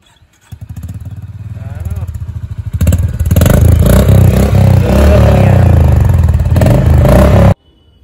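A new Honda motorcycle starts up and its engine settles into a loud, close idle, then picks up with a blip of throttle and runs hard and steady before cutting off abruptly near the end.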